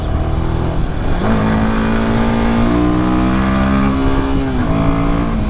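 A Royal Enfield Himalayan 450 with a 452cc engine revs loud and close, its pitch climbing, holding and dipping in steady surges with no talking over it.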